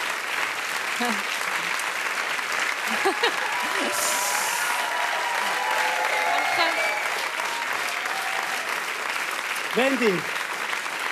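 Studio audience at a Swiss late-night comedy show gives a guest sustained, loud applause and cheering, with a host speaking over it.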